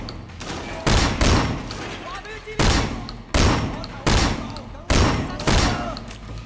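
Shotgun blasts in a first-person shooter video game, six or seven loud booming shots at irregular intervals, each with a short decaying tail, over steady background game noise.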